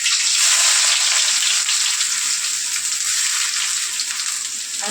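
Hot oil hissing in a pan for onion dosa, a loud continuous bright sizzle that holds steady for several seconds, close up and with no talking.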